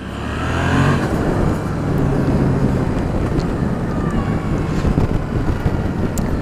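Yamaha MT-07 motorcycle ridden hard with the rear sliding, a loud continuous engine roar mixed with heavy wind rush throughout, no talking.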